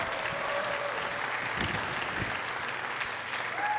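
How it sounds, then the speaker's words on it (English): Audience applause at a grade 8 promotion ceremony for the School for Exceptional Studies, a steady mid-distance clapping from a seated crowd that carries through the whole stretch with faint tonal sounds drifting in near the end. "Give him a round of applause again."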